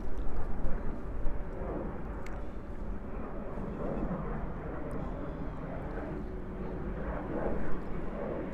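A Delta 767-300 jet at JFK airport gives off a broad, continuous rumbling roar with wind buffeting on the microphone, loud and steady throughout.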